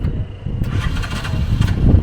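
An auto rickshaw engine catches after a push start, sputtering into a mid-pitched idle, close and fairly loud with uneven bursts and no talking.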